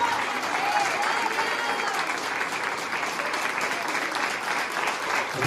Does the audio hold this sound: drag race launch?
no